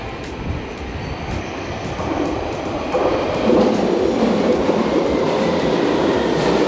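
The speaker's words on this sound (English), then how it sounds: "train approaching" A London Underground train rumbles into the platform, its roar building steadily with rhythmic rail clatter, loud and close, with no voices.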